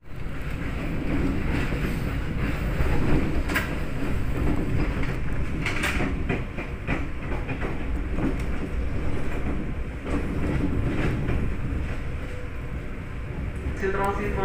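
A commuter train rumbles into Manggarai station in Indonesia with continuous loud clattering and squealing, while an Indonesian public-address voice speaks over the noise.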